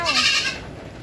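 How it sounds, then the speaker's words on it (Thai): A goat in a farm grazing pen lets out a single loud, close, quavering bleat that trails off quickly into quiet outdoor background. "น้องแชมป์อย่าวิ่งไล่แพะครับไม่เอา"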